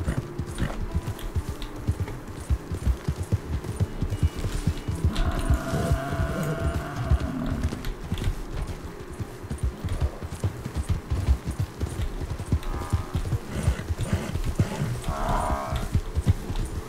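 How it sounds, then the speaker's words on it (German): In Red Dead Redemption 2, steady clip-clop of horse hooves trotting close by, a continuous rhythmic beat with a couple of brief whinny-like calls in between. "Ich kann mit diesem Pferd nicht mehr reiten, das ist furchtbar."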